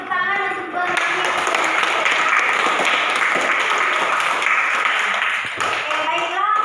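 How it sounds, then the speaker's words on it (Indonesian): Sustained classroom applause from students in a physics lesson on electric circuits, a dense steady wash of clapping that runs loud and even for several seconds, with a few voices faintly mixed in at the start and end. "Oke, kita beri tepuk tangan untuk berani."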